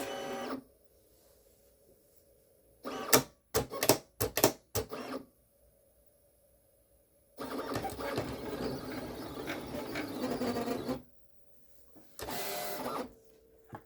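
A Silhouette Cameo 5 cutting machine cutting sticker paper, with a low motor hum, bursts of rapid clicking carriage moves, and a longer stretch of buzzing, rattling cutting, close and clear between quiet pauses.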